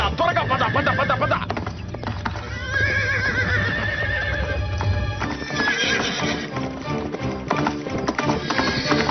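A horse running off neighs loudly while its hooves clip-clop in a steady rhythm, close and continuous, with music and voices mixed in underneath.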